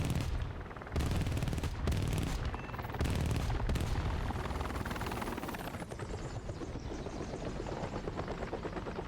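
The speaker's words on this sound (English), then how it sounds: "That's a heli I hear." A helicopter in a video game thrums steadily through the scene, joined by bursts of gunfire in the first few seconds, then the rotor drone carries on loud and alone.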